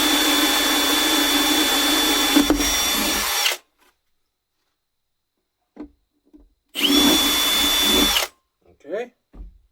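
A Milwaukee M18 cordless drill bores holes in wood for a router table, whining steadily for a few seconds, then a short pause before a second burst, with small handling knocks in between.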